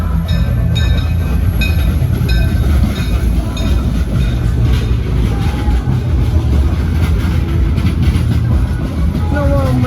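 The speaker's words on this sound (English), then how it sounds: "We're getting held up briefly for the train passing." A train rolls past at Silver Dollar City theme park, its rumble and clattering wheels steady and close for the whole stretch, with a crowd murmuring and faint squeals over the top.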